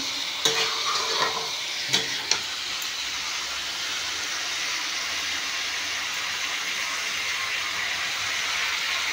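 Cabbage fries in a pan with a steady sizzle and hiss while a spoon stirs it, giving a few clattering scrapes near the start, then continuous frying noise.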